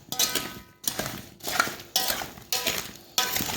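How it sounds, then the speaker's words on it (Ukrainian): A utensil stirs a salad of green tomatoes in a bowl, making five rhythmic scraping, clinking strokes about every 0.6 seconds, close and fairly loud with no voices. "Тепер отак перемішую ці помідорчики"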